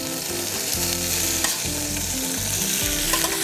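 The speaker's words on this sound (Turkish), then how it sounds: "Önce biraz tereyağı koyacağım tavaya." Butter sizzles in a preheated cast iron pan, a steady close frying hiss running through the whole moment with a low rhythmic pulse of music underneath.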